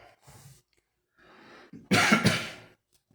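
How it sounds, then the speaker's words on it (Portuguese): A couple of soft breaths or throat noises, then a loud, close, harsh cough with a few rapid bursts, fading to quiet. "Perdão aí por ter tossido."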